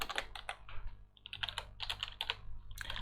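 Rapid typing on a computer keyboard, clustered bursts of close, crisp key clicks with short pauses between them, no voices.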